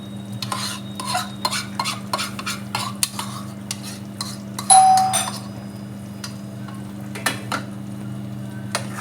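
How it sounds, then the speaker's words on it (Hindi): A utensil stirs curd into a paneer curry in a pan, making a run of scraping and clinking strokes with a sharper metallic clink midway, over a low steady hum. "दही डाल के अच्छी तरह से मिक्स करके इसको ढक के रख दूँगी"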